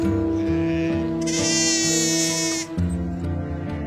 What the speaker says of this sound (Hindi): बस ये जो भेड़ें इधर से उधर जब चल रही हैं तो इनकी घंटियों की बजने की आवाज़ आ रही है